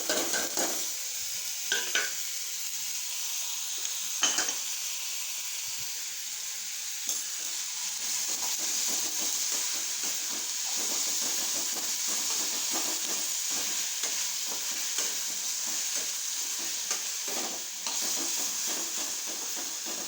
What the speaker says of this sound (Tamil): இப்போ நம்ம நறுக்கிய தக்காளி பழமும் பல்லாரியும் போட்டு நல்லா வதக்கணும்.